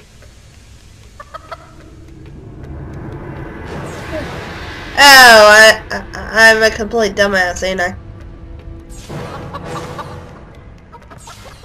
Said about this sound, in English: Chickens! Feel like I'm the Link! The chickens are coming after me!